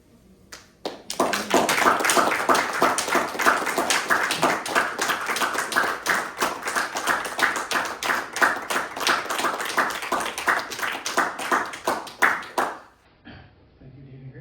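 Audience at a poetry reading breaks into applause, a dense roll of clapping that swells quickly, holds for about twelve seconds, then thins out and stops.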